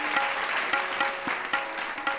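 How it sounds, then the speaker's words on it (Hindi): Hearty applause from an audience honouring a man at a public gathering, dense and continuous clapping with small swells, heard alone without talk. "मैं प्रतापगढ़ वासियों की तरफ से अरुण जी का सम्मान करता हूं एक जोरदार तालियों के साथ।"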